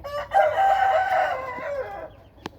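A healthy rooster gives one loud, close crow lasting under two seconds, rising then trailing off, followed by a short sharp click.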